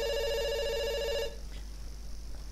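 Ringing phone in the game Dr. Langeskov: a bright electronic bell trill sounds alone for just over a second, then stops abruptly into low background hiss.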